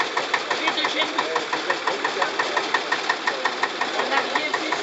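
An old tractor engine found after more than 40 years in a barn, running with a steady rhythmic knocking chug at idle, loud and close, repeating evenly throughout.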